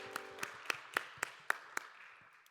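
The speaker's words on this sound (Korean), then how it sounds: "서로를 격려하면서 박수하겠습니다." A small group claps at a church worship service, about eight sharp, evenly spaced claps that fade toward the end, with no voices over them.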